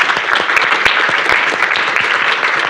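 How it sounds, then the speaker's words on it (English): Loud, dense audience applause following a conference talk on trust and safety in artificial intelligence, continuous clapping from many hands with no pauses or voices. "it's a big round of applause here"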